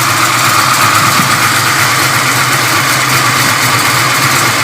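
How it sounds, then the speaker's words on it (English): A 1996 Impala SS engine idles on its own at about 850 to 900 rpm, with piston and rocker noise in a loud, close, even rumble that holds steady throughout. "Idling by itself around 900, 850. You'll hear mostly pistons and rockers here."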